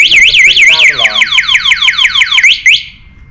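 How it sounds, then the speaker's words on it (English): The anti-theft alarm on an ESkuta SX250 Series III e-bike blares loud and close, a warbling siren that turns into rapid repeated chirps before cutting off abruptly into near silence. "If you try and move the bike, back wheel comes on, locks, and then it makes a really loud alarm."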